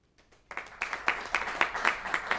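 Sparse audience applause from a modest crowd at a soccer juggling showcase, a handful of scattered claps building after a quiet start and continuing unevenly, thin rather than full.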